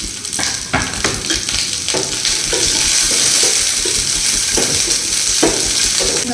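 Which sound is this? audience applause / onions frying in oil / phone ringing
onions frying in oil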